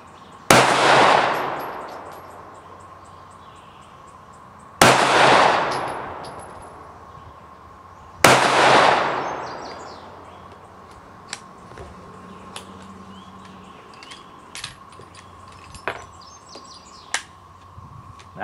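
Three loud, sharp shots from a Glock 26 pistol firing 124 grain 9mm rounds, spaced several seconds apart with ringing decay, followed by quieter clicks and handling noises and faint bird calls outdoors.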